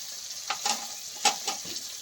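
Ginger paste, Kashmiri chili powder and chopped tomato fry with potatoes in a pan for a prawn and cabbage dish, a steady soft sizzle broken by several quick scraping stirs, close up and without voices.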